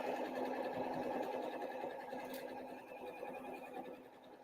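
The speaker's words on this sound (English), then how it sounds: "gonna back stitch at the end here" Sewing machine back stitching at the end of an apron seam, a steady close mechanical whir and rapid needle chatter, fairly quiet and continuous with no talk.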